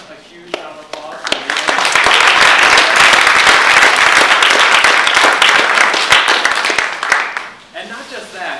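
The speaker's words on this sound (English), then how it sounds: "let's give them a huge round of applause" An audience at a higher-education tech conference keynote applauds the event organizers, swelling quickly into loud, dense clapping that holds steady and then tapers off, with a few voices and whoops mixed in.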